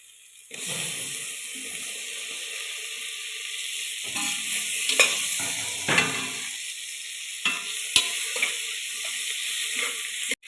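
Onions and tomato sautéing in a pressure cooker for egg biryani: a sizzle starts abruptly and holds steady, with occasional spoon scrapes and taps against the pot.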